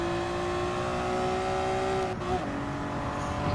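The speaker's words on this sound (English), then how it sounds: "master the hairpin in the Honda NSX Type R 1992" A 1992 Honda NSX Type R in Gran Turismo 7 revs its mid-mounted engine with a loud, sustained high whine that dips briefly as it shifts, then climbs again.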